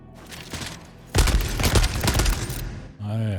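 Strelick gun fire in the game Deathloop: a loud burst of rapid shots lasting about a second and a half after a quieter opening, followed by a sustained humming tone, with some talk in the background.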